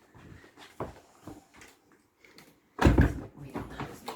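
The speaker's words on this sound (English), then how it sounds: "I'll shut the door" A door being shut indoors, with a heavy close thud and rattle after a few softer bumps and movement sounds, no voices.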